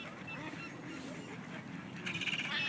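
Geese honk at Lake Murray over a soft outdoor murmur, with a short burst of nasal honks rising near the end.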